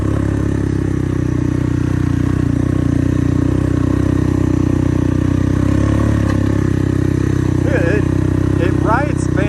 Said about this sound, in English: getting to ride a three-wheeler while you're making money